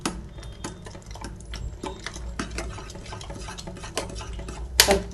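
Spoon stirring turmeric into potato curry in a pan, a run of quick scraping, clinking strokes against the metal, close and steady, with a brighter clatter near the end.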